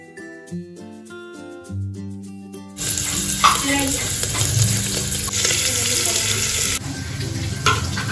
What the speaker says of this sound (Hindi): यहाँ बन रहा है पोर्क और यहाँ बन रहा है चिकन